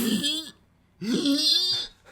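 Two bursts of throaty, rasping vocal noise, like exaggerated hacking and throat clearing, separated by a short pause; close and fairly loud.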